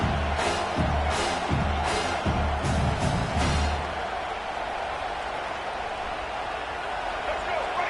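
A college football stadium crowd roars steadily, a broad wash of cheering with rhythmic thumping early on, then settling to a sustained din; a commentator's voice runs over it.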